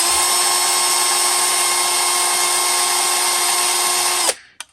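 A Parkside 12V cordless angle drill driver runs at full speed with a steady, loud, high-pitched whine for about four seconds, then shuts off abruptly and spins down into near silence.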